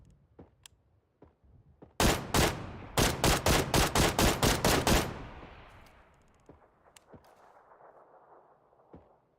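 Loud, rapid gunfire in the battle royale game PUBG: a heavy opening shot, then a rhythmic string of about ten close, punchy rounds lasting around three seconds, trailing into quiet ambience with faint scattered clicks.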